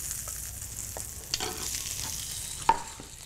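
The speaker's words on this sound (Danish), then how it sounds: "skal den vendes om og brunes tilsvarende på den anden side" Beef culotte browns in a hot pan with a soft, continuous sizzle, broken by a few faint clicks and a sharper clatter near the end as the meat is handled.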